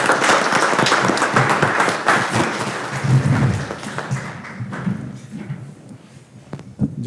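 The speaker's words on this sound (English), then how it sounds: "Let's give Carson a round of applause." Audience at a school board of education meeting giving a round of applause. Fairly close clapping is full at first, then thins into scattered claps and thumps as it dies away.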